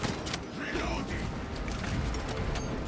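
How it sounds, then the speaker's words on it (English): A heavy bolt rifle is reloaded in a video game, a short burst of close mechanical clicks and creaking metal over dense battle noise, with talk faintly underneath. "Reloading."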